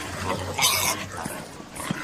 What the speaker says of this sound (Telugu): ఇక్కడ కుక్కను ఏదైనా పెంచుతున్నారా సార్?